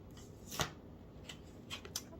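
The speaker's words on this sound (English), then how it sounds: "I keep shuffling a lot for this pile." Tarot cards are shuffled by hand in a quiet room, giving soft, irregular riffling bursts with a few sharper card slaps, faint and close with no talking.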